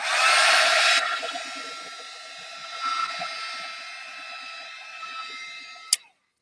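A heat tool blows hot air to dry paint on an art journal page, a loud steady whir strongest at the start that eases to a lower hum, then cuts off with a sharp click near the end.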